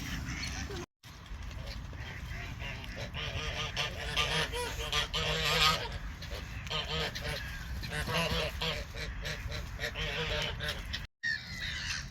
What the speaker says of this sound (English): a lot of fat ducks there